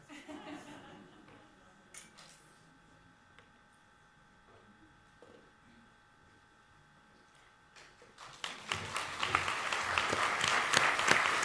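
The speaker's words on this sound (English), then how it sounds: "Let us give a warm round of applause to Minister Simon Harris, to our Presidents" Applause from a university event audience greeting a procession that includes a government minister and university presidents. Scattered clicks in a quiet room build into loud, sustained clapping for the last few seconds.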